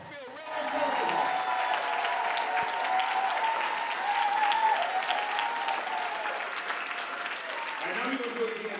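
A neighborhood summit audience breaks into sustained clapping and cheering, a thick, even roar of hands with scattered whoops and an amplified voice calling out over it near the start and end.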